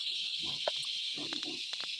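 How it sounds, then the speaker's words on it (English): Steady high-pitched cricket chirping fills the background throughout, a constant faint insect drone with a few soft knocks and murmurs beneath it. "Guy, sorry about the crickets"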